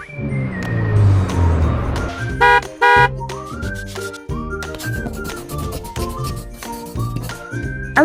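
A taxi idles with an engine hum, then its horn gives two short honks in quick succession. Bouncy music plays after the honks.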